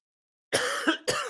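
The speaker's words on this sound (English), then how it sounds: "A little cough, a little sympathy cough." Two quick, harsh coughs close to the microphone, the first longer and the second a short follow-up, with silence before.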